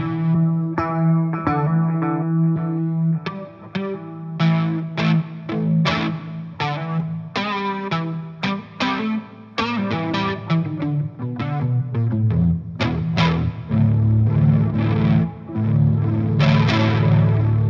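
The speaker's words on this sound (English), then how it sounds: "This is my fuzz face channel, and I think there is a delay or a reverb on this as well" Electric guitar through a Fuzz Face fuzz with delay or reverb, playing a run of distorted, sustained notes and chords with echoing tails, loud and alone.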